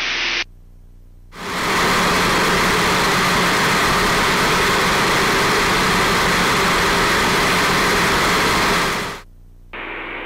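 Twin Bonanza engines drone in flight, a loud, steady, broadband roar that swells in sharply, holds for several seconds and then cuts back to a quieter hum.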